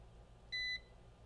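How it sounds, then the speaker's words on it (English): A multimeter in continuity mode gives a single short, steady electronic beep of about a quarter second while probing a laptop motherboard, standing alone over a faint low hum. "Yeah, it's beeping for a second and the capacitors charge up and then it stops."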